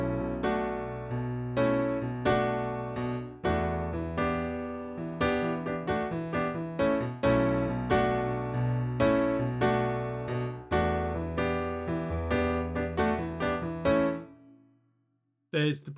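Keyboard playing a song: repeated rhythmic chords over a bass line in a steady groove, clear and close, ending with a held note and a short pause.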